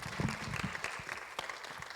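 A church congregation claps for the Lord during a Spanish-English worship service, a dense, steady wash of applause filling the room from start to finish with no voices on top.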